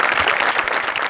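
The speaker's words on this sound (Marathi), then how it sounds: "गणेश सरांसाठी एकदा जोरदार टाळ्या" A short, loud burst of studio audience applause for Ganesh sir on a Marathi comedy show, many hands clapping densely for about a second with nothing else heard.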